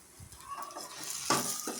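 Oil sizzles and crackles in a pan as a bunch of curry leaves goes in while making green peas kurma, with a sharp burst of frying noise late on and some light stirring.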